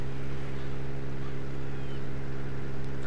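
A Case tractor's engine in Farming Simulator 17 drones steadily, a low, even hum with strong tonal bands that holds unchanged for the whole stretch, with no voices over it.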